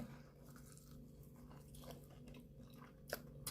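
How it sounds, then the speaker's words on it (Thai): Biting into crispy fried chicken dusted with seasoning powder, a few soft close crunches and chewing, with a couple of sharper crisp bites near the end. "อ่าเราก็จะมาเริ่มกินชิ้นแรกเลยนะครับผม"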